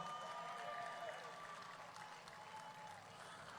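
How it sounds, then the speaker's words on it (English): Quiet audience applause for an umpire at the opening of the Diego Martin sporting complex, a soft continuous patter heard from a distance with some faint crowd murmur. "Let's give her a round of applause."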